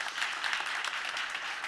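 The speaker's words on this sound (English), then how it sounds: "Big applause to Eric once more" A startup founders' event audience gives a speaker on stage a short, dense burst of applause, with many hands clapping together evenly throughout.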